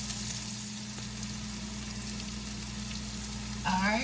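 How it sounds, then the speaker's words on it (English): Onions and peppers sauté in a pan for Panamanian-style arroz con pollo, a steady close sizzle and fry running the whole time with a brief clatter of stirring near the end. "And we sauteing the onions with the peppers."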